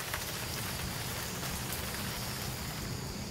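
Steady rain falls in a dense, continuous hiss of drops on surfaces, loud and close throughout with no talk.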